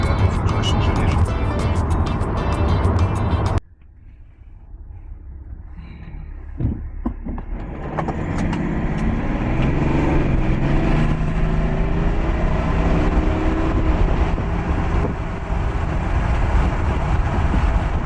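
A 2004 BMW 5 Series E60 530d on the move, steady road rumble and engine drone building after a brief quieter moment, with people talking over it.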